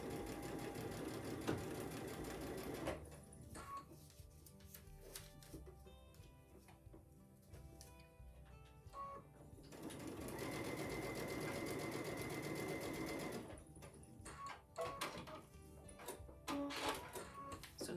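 A sewing machine stitches a quilt panel seam in rapid mechanical bursts, running, pausing briefly and starting again, close and steady with no talk.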